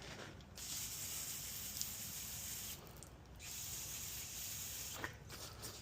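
Aerosol can spraying cleaner onto B210 parts, a steady close hiss held for several seconds with two brief breaks in the flow.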